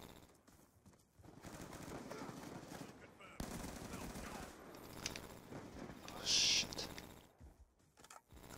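Rapid automatic gunfire from a Call of Duty Black Ops 2 multiplayer match crackles in dense bursts, with a sharp louder burst near the end and no talking.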